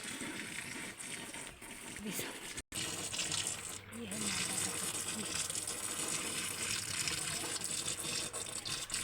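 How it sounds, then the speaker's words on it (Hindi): Water gushes steadily onto garden plants, with a continuous broadband splashing hiss throughout as someone speaks over it. "बगीचे में पानी डाल दो।"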